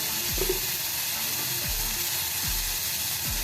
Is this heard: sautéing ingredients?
yes